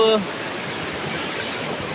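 A river stream rushes steadily nearby with a broad, even roar; a short tonal sound briefly rides over it at the very start before the water noise carries on alone.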